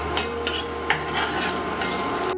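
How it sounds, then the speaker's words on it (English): Onions and thinly sliced potatoes fry in a pan, a steady close sizzle broken by a few sharp stirring clicks of a utensil against the pan. "Fry our onions and potatoes."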